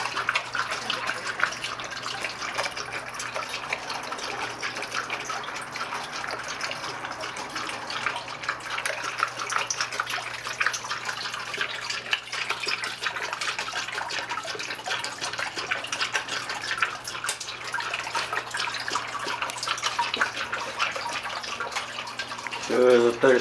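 Water flows continuously from a recycled automatic dog water fountain, a constant close trickle and splash, with a brief voice near the end.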